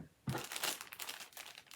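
A bag holding wool scraps crinkles as it is handled, producing a short burst of close, rustling plastic crackles that fade quickly.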